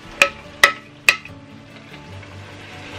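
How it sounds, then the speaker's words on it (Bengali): Vegetables with spices, including a large radish and potatoes, being stirred in a home cooking pot: three sharp utensil knocks against the pot early on, then a softer, continuous scraping and shuffling stir close by, with no talking. "এখন ভালো করে নেড়ে দিচ্ছি, সবগুলো সবজি সুন্দরভাবে মশলার সাথে মিক্স হয়ে যাবে।"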